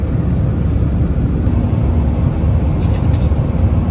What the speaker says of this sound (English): Now the aircraft is flying above the Dhaka and still is taking its height.